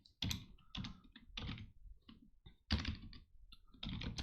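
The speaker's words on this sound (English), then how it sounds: "So you click on add a title and we'll just type" Keys clatter on a computer keyboard as a blog title is typed, in short bursts of close, crisp clicks separated by brief pauses.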